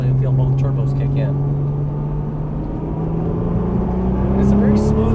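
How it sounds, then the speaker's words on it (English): A Nissan GT-R's twin-turbo engine accelerates on a track from inside the car: a steady droning engine note rising gradually in pitch, loud and close, with a voice talking over it. "at the apex, when you squeeze on the throttle, you'll feel both turbos kick in"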